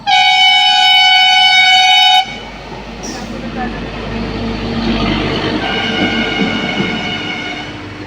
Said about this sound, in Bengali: ট্রেনও না এটা তো ইঞ্জিন যাচ্ছে মনে হয়